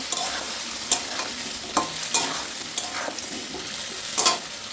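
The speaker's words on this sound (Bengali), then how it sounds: "এর মধ্যে আমি মশলাগুলো দিয়ে দেবো, আর একটুখানি ভাজবো।" Potatoes frying in a pan with a ground spice paste, stirred; a steady loud sizzle with a few sharp scraping clatters from the spoon against the pan, no voices.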